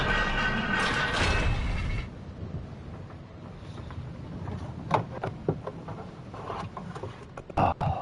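An elevator in the Bloodborne chalice dungeon, moving with a low rumbling hum and scattered mechanical creaks and clanks. A louder rush opens the stretch, then the rumble settles under sporadic knocks.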